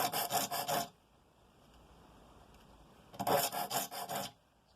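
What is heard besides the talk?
file re-toothing hand saw teeth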